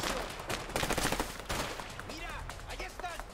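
Rapid gunfire bursts in the Army of Two video game, a quick volley of shots in the first half followed by scattered impacts and chirping effects, fairly quiet in the mix.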